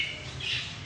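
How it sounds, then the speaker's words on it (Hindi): Pigeons building a nest give a short, close squawking call over a steady hiss of background noise, with no voices. "और यह कबूतर हैं, ये तो ये अपना घोंसला भी बना रहे हैं"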